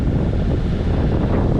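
Strong wind blasts across the microphone aboard a sailboat at sea off the Southern California coast, a loud, low, continuous rumble for a couple of seconds with no voices.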